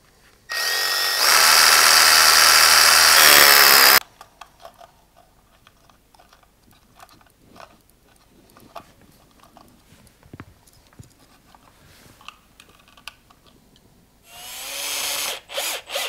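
A power drill whines loudly and steadily, boring small holes in a wall for wall plugs, then stops; faint handling clicks follow before the drill starts again at the end.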